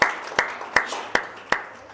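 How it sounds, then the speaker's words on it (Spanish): Church congregation clapping in unison, five sharp evenly spaced claps about every 0.4 seconds, loud and close with short room echo. "Si vas a aplaudir, apláudele fuerte a Dios por los varones."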